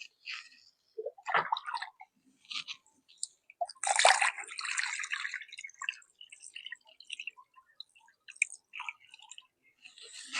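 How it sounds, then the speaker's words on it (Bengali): Water poured by hand onto a freshly planted potted lotus, with dripping, splashing and trickling in uneven bursts, close and fairly soft, strongest around the middle. "হাতটাকে এইভাবে রেখে তারপর জলটা দিতে হবে"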